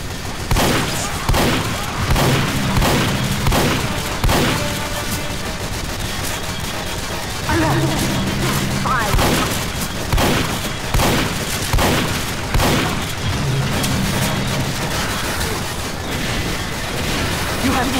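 Sustained gunfire and heavy booms pound a tank in Team Fortress 2's Mann vs Machine mode, loud and relentless for the whole stretch, with repeated rhythmic blasts and rattling automatic fire layered under game noise.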